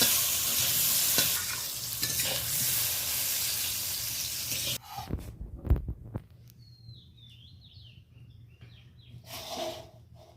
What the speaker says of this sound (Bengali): বেগুনটা ওই তেলে আমি ভেজে নেব।